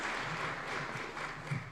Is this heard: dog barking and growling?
no